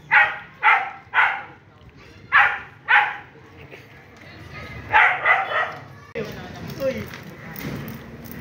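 A Dalmatian barks outdoors at night, five loud close barks in a quick run, then a few softer bursts, with people talking nearby and some background noise.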